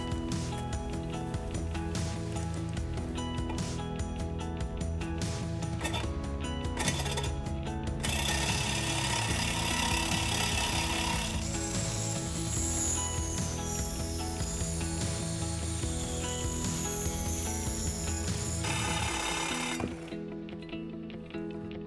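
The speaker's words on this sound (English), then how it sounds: "that's how you get a good, clean, square cut using the Sawzall from Milwaukee." Milwaukee Sawzall reciprocating saw cutting through pipe, a loud, continuous buzzing rasp that runs steadily for about twenty seconds before stopping abruptly near the end.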